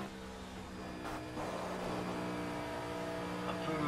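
A prototype racing car engine in the video game Project Cars drones with a hoarse, rounded tone, building slightly in loudness as it runs steadily without pause.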